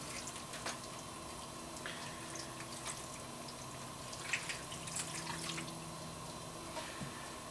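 Broth is poured over wine-braised snow goose in a pan, a faint, steady liquid trickle with a few small splashes and drips, heard close and quiet against a low background hum.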